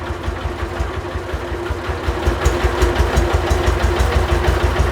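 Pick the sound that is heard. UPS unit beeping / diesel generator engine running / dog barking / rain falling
diesel generator engine running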